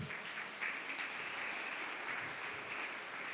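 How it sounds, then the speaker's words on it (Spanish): A church congregation claps in steady, sustained applause, moderately distant and fairly soft, with no speech over it. "Dale un fuerte aplauso al Señor."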